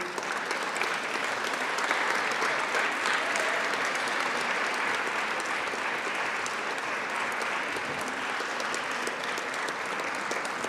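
Audience applause filling a room at an award ceremony, steady dense clapping with no pause, fairly loud and even throughout, no speech over it.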